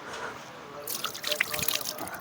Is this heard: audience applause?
no